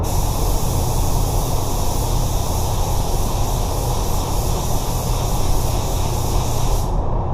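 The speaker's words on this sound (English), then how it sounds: "I'm kind of facing my gun away a little bit while doing the blend so I don't get too much overspray on the side over here" A paint spray gun blends three-stage pearl white onto a repaired bumper, a loud, steady close hiss of atomized spray that cuts off abruptly at the end.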